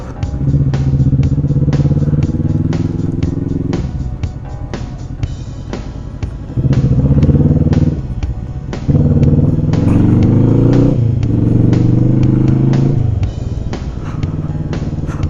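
Kawasaki Vulcan motorcycle riding on a mountain road between Hunder and Pangong Tso, a loud, close engine drone that rises and falls with gear changes, plus rumbling wind and road clatter.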